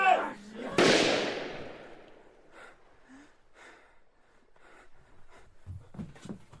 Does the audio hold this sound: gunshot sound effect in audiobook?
yes